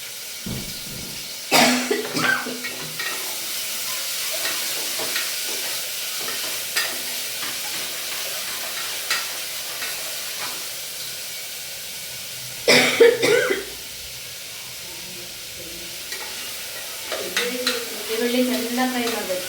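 Onions fry and get stirred in a pan with cloves and cinnamon for hotel-style egg biryani, a steady close sizzle broken by a few louder scraping stirs and brief clatters.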